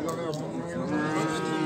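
Cattle moo at a livestock market in a single drawn-out, low, lowing call, loud and close.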